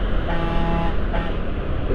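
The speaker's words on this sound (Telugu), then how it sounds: "హార్న్ మీద హార్న్ కొట్టేస్తుంది." A vehicle horn honks on an open road during a motorcycle ride, sounding in two bursts over steady engine and traffic rumble.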